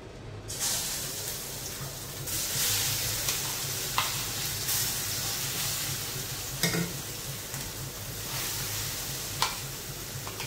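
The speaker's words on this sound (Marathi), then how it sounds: "थोडा तेलात आपण याला जरा 2 मिनिटं व्यवस्थित परतून घेऊ" Pea patties sautéing in hot oil in a pan on a gas stove on low flame, giving a steady close sizzle with occasional scraping stirs and brief sharper crackles.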